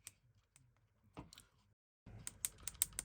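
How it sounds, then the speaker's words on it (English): Small crisp clicks sound close by, scattered at first and then in a quicker run of sharp clicks near the end, against a quiet background. "still making a clicking noise"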